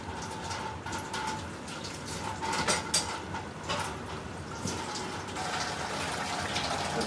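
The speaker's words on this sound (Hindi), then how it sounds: "बाजी माई काम कर रही है, बर्तन धुल रहे हैं," Dishes are washed under a running kitchen tap, water gushing and splashing steadily with a few clinks of utensils and pots, fairly close and moderately loud throughout.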